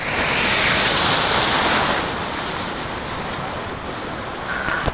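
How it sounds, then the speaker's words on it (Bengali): Big surf crashes and washes onto Kuakata sea beach in the morning, a loud, close roar that eases into a steady hiss, with wind buffeting the microphone and no talk. "ঢেউ একটা আসতে পড়তেছে, বড় বড় ঢেউ"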